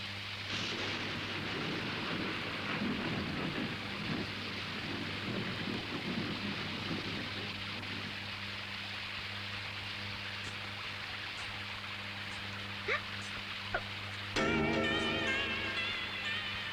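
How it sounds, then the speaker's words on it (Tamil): Steady heavy rain from a Tamil film scene, with a low rumble of thunder beneath the constant hiss. A sharper crack-like burst comes near the end. No one speaks. "சின்னம்மா வந்து மழைக்காக ஒதுங்கி நின்னாங்க"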